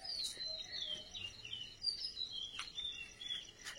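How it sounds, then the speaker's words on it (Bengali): Birds calling at dawn in a rural setting, with faint, scattered chirps and whistles over a quiet insect hum. No rooster crow stands out. "আর পাখি আর মোরগ গুলো যেভাবে ডাকে"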